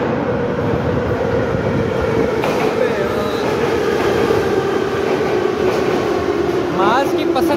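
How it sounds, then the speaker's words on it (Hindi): A St Petersburg metro train arriving at a station, a loud continuous rumble of wheels and rails with rising squeals and clatter as it pulls in. "या हमारी आने लगी है मेट्रो। अभी आप सुनना आवाज़ कितनी होती है"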